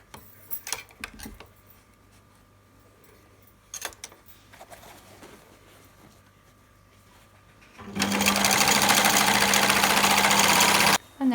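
Sewing machine stitching fabric for a children's fold-out couch: faint scattered ticks and handling noises, then a loud, steady whirring run of stitching for about three seconds near the end.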